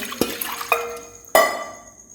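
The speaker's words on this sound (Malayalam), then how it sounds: "ഇതിലേക്ക് ഒഴിച്ചു കൊടുക്കാം" Half a litre of water tipped from an uruli into a pressure cooker for Palakkad buffalo bone soup, heard as a few sharp metallic clinks and splashy pours in separate bursts, close by with no talk.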